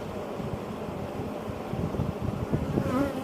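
Honey bees from a very large colony buzz in a dense, steady drone during an open hive inspection, close to the microphone, with wind rumble underneath and a voice breaking in near the end.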